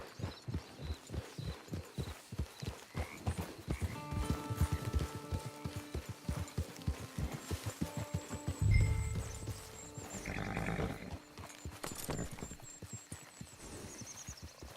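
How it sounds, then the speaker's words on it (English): Horse hooves in Red Dead Online clip-clop at a steady walking rhythm, close and clear, with soft sustained tones in the background and a brief snort partway through. "Get your horse."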